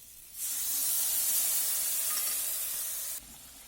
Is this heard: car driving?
no